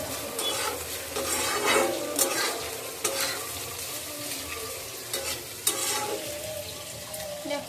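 Food sizzles in a hot pan while a spatula scrapes and stirs it in steady strokes, with occasional sharper clinks of metal, during home cooking for Saraswati Puja.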